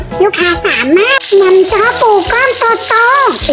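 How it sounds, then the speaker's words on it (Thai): Thickly stuffed crab meat rolls fry in hot oil with a steady, crackling sizzle that runs continuously beneath a woman's loud, animated talking. "ลงไปทอดกันได้เลยค่ะ"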